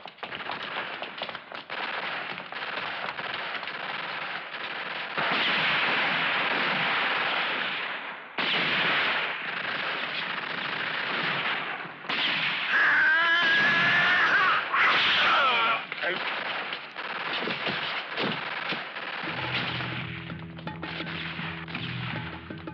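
Rapid machine gun fire in a 1971 western action film, bursts of loud sharp cracks and clatter running through most of the clip, with a brief lull near the middle and a louder stretch around the fifteen-second mark.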